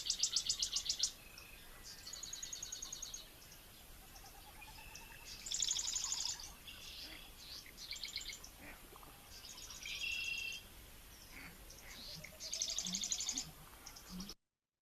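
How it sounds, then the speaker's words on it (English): Recorded marsh calls: marsh wren song bursts in rapid buzzy trills and rattles repeat every second or two at moderate distance over a quiet background, mixed with red-winged blackbird, American bittern and snipe in the marsh. "It's kind of incredible just how much wrens call."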